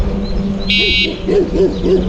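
A short electronic horn toot, followed by a few soft rising-falling hoot-like tones, close and brief.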